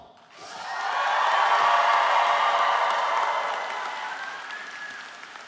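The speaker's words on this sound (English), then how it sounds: "let us all hear the biggest cheer of all." A university convocation crowd breaks into loud applause with whoops and cheers, swelling quickly, holding strong for a few seconds, then gradually tapering off.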